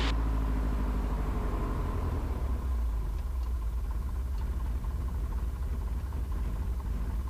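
A small aircraft piston engine idling at low RPM during the pre-flight run-up with carb heat on, a steady low rumbling drone that holds constant and close throughout.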